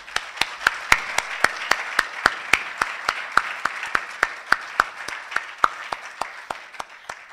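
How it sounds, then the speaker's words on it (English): After a poetry reading, an audience claps in a sharp, even rhythm, with distinct individual claps standing out over softer clapping throughout. "Can we have a last round of applause?"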